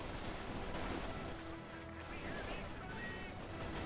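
PPSh submachine guns rattle in Company of Heroes 2, a dense, continuous spray of rapid gunfire in a busy battle soundscape, with voices talking over it.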